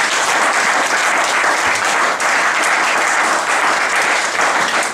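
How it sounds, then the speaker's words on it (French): A church congregation breaks into sustained, loud applause during a sermon, a dense even wash of clapping that fills the whole stretch without pause. "J'aimerais qu'on acclame cette parole"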